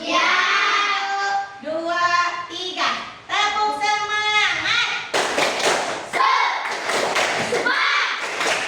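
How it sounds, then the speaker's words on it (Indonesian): A group performs a rhythmic spirit-clapping chant, first voices calling out in sung, chant-like phrases, then sharp, close, loud bursts of unison hand claps in a quick repeating pattern. "kita melakukan tepuk semangat."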